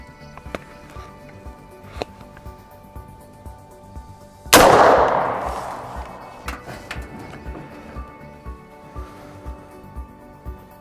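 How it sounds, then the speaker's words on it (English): A .223 full metal jacket rifle round fired at a steel filing cabinet in an office setting gives one loud, sharp crack that rings and decays over about a second amid quiet background. "Next round we're going to fire is the .223 full metal jacket."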